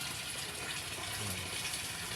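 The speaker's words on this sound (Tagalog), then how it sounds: "pati yung water filter natin working oh, malakas" A water filter in a catfish tank runs with a continuous, even gush and bubbling of water, steady throughout with no voices.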